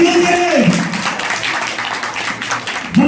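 A church congregation claps together in a burst of applause that swells and fades over a few seconds, with a preacher's voice speaking over it.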